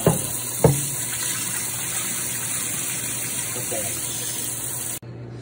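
A kitchen tap runs steadily while meat is washed, a continuous close gush of water with a couple of brief clunks near the start, cutting off abruptly near the end.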